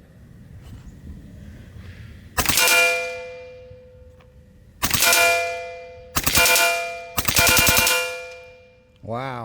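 A Western Mordax PCP air pistol loaded with 15.89-grain pellets on a full gas tank fires loud, ringing metallic cracks in separated bursts, each decaying slowly, with a brief exclamation in between.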